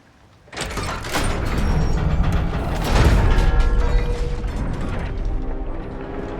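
In God of War Ragnarök, a forge mechanism is cranked. There is a loud, continuous grinding and ratcheting of heavy gears that begins abruptly and holds steady, with creaks and low rumbling layered through it.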